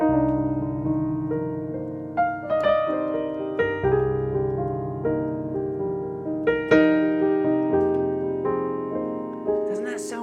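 Piano plays a slow, lush progression of sustained minor chords with a few added notes, ringing out clearly with no voices.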